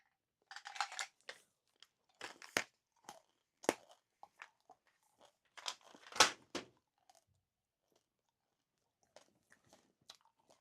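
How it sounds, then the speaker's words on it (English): Gum being chewed right at the mouth gives wet, crunchy smacks in irregular bursts, with short busy clusters separated by quiet gaps and no talking. "Can you hear me chew?"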